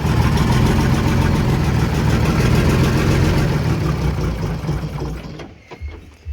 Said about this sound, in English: A little smoky on its first startup in a while, but that's smoothing right out. That's not even hunting that bad.